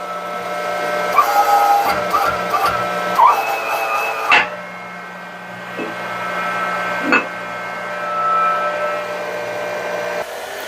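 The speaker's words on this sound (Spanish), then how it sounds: "vamos a la prensa hidráulica. Y vamos a meter el flanche con ese ajuste de presión" Hydraulic press squeezing a steel flange onto a clutch adapter for a Ford Cargo 1721 fan base: a steady motor hum with a tonal whine, broken by a few sharp metallic clanks, with no talking.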